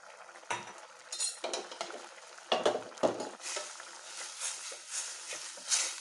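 A spoon scrapes and clinks against a pot of fish curry with coconut as it is stirred, several distinct knocks and scrapes over a soft background simmer, fairly quiet and close.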